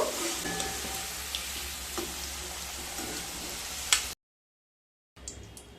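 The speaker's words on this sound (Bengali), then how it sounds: "এবার সমস্ত সয়াবিনগুলোকে ভেজে নেব" Soybean chunks fry in hot oil in a pan, a close, steady sizzle with a few stirring clicks, then a second of silence before the frying resumes briefly.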